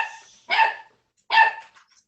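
Puppies barking indoors, two short, bright yips spaced apart, loud and close with quiet gaps between them and no talk over them.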